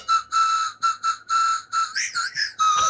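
A whistle blown close and loud plays a song melody in a string of short bursts and sustained tones, with a few pitch slides near the end.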